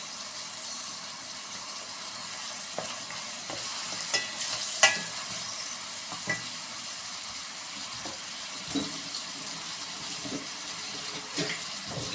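Green peppers fry in a pan for a dried-tomato pilaf, with a soft continuous sizzle broken by scattered clicks and scrapes of stirring at a moderate distance.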